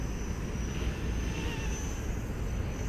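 An Angry Bird 230S RC model performs side and front flips overhead, its electric rotors giving a steady, even buzzing whine throughout at moderate distance.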